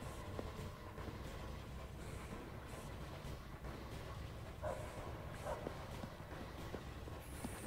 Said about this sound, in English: I hear him barking.